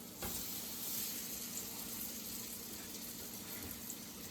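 Pancake batter sizzles steadily in a hot frying pan, a continuous close crackle and hiss with no talking, holding an even level throughout.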